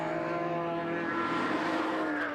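Toyota MR2 race car with a small 1800 engine in the B3 class of a Scottish saloon and sports car championship at a circuit, its engine droning steadily and loud at mid distance, holding a level tone throughout.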